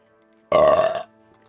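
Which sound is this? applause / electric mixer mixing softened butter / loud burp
loud burp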